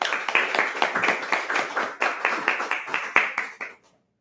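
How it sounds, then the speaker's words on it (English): A small group at a Toastmasters meeting claps steadily and briskly nearby, the rhythmic hand claps fading out and stopping near the end. "A huge round of applause for her."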